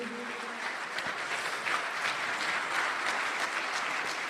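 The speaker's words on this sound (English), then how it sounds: "Please give yourselves a big round of applause." A conference audience applauds steadily in a large hall, a dense even clatter of many hands heard at moderate distance throughout.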